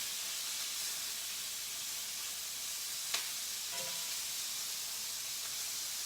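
About a pound of shrimp sizzle in hot ghee in a skillet, a constant bright hiss with one sharp clack and a brief scrape partway through.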